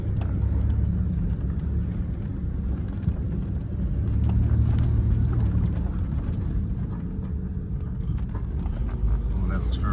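A car grinds through soft sand in second gear on a Murray River track, its engine and tyres making a continuous heavy rumble heard from inside the cabin.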